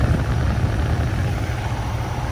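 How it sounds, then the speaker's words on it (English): Ice machine compressor and condenser fans running together, a steady low rumbling hum with broadband airy whoosh, close and continuous throughout. "Compressor's running, fans running."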